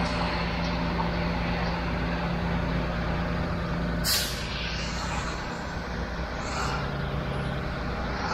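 A concrete truck idles with a steady diesel rumble until a sharp, loud burst of air-brake hiss cuts in midway while it dumps its load, followed by a few fainter hisses.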